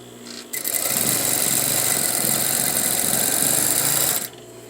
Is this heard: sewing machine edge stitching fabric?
yes